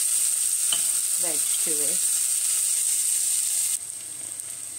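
Onion and garlic frying in a pan give off a loud, steady sizzle that runs throughout, briefly interrupted by a few stirring scrapes, and a voice speaks a few words partway through.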